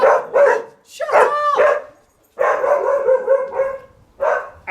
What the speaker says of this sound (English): when the dog decided to have an epileptic fit, run through the fucking courtyard